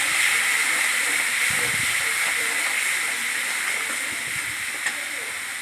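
Masala with turmeric sautéing in a pan for a Bengali chili katla fish curry, giving a steady, even hiss of frying throughout, with a few faint scraping knocks from stirring.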